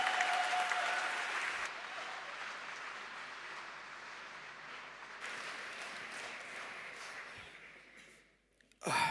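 Applause at the GGC 2023 award ceremony as a winner is called up, a sustained burst of crowd clapping that fades gradually before a brief quiet at the end.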